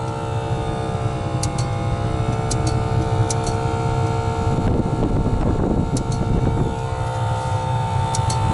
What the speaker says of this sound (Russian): слышите, печка гудит